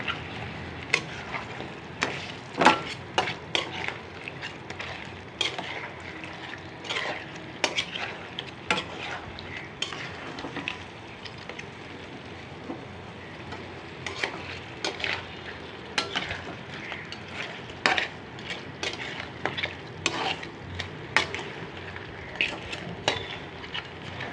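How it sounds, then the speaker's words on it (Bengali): Crab curry sizzles in a pan while a spoon scrapes and clinks against the metal in frequent, uneven strokes. The stirring carries on up close for a long stretch, with no talking. "কিছুক্ষণ কষিয়ে এবং ডাংনা দিয়ে রান্না করি"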